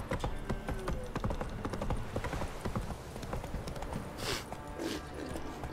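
Horse hooves clip-clopping rhythmically in a video game, a fast steady galloping beat of hoofbeats at moderate distance with faint breathy bursts toward the end.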